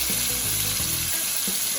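Onion and galangal paste frying in a pan for nasi lemak, a steady close sizzle with a few soft stirring scrapes and clicks, no voices.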